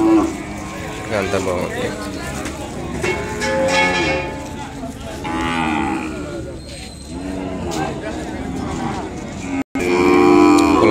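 Ongole cattle low and moo repeatedly at a busy bull market in Kodada, with a calf among them, heard under continuous nearby conversation and market chatter.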